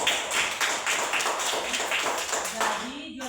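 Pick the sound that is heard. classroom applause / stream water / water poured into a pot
classroom applause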